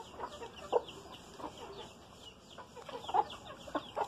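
Short clucks and soft calls from an old rooster on a Brazilian farm, scattered across a few seconds at moderate distance amid faint outdoor background noise.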